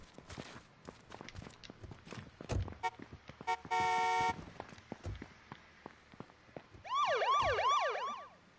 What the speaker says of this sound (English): There's a way we could put the sirens on